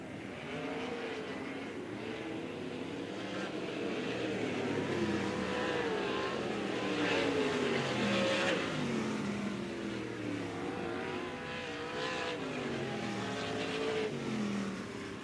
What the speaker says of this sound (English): Heat race action here.